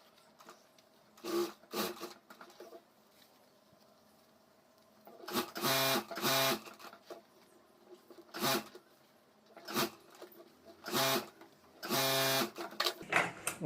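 A sewing machine stitches a homemade school bag lined with fabric and rubber sheet, in several short bursts of rapid whirring, each a second or so long, separated by quiet pauses.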